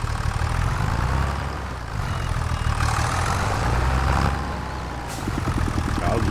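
A tractor with a front loader in the Farming Simulator 25 video game idles as a steady, low diesel rumble close by, with slight swells in engine pitch and no voices.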